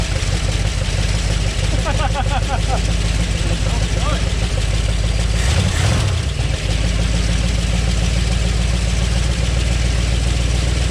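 An old AMC Rebel engine, revived after about 15 years of sitting and leaking a little gas at the fuel filter, idles steadily and loudly up close in neutral, a continuous low throbbing with a brief rise partway through.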